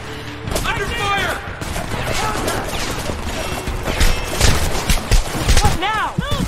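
Dense firefight gunfire in the video game Homefront, continuous bursts of shots and impacts throughout, with shouted voices and game sounds layered over the shooting.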